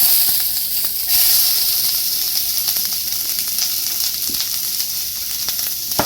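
Onion frying in hot oil in a pan for spicy Marathi katvada, a loud continuous sizzle and hiss with faint crackles throughout, no talk.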